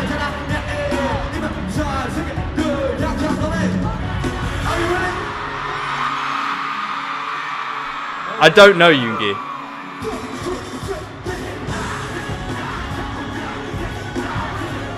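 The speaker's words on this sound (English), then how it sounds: "Look at the crowd at the front, they are going crazy." A concert crowd at a show roars and yells in a continuous dense wash of sound, punctuated by a sharp burst midway, while a voice talks over the noise.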